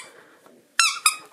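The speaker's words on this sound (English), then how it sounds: "It's got lots of squeaks. So many squeaks." Squeaky dog toy giving two sharp, high squeaks in quick succession, close and loud after a quiet moment, with faint rustling before them.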